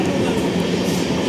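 The Amrit Bharat Express passenger train rolls along just after leaving Kayamkulam Junction, with a steady, loud rumble and rattle of the carriage, close and continuous throughout.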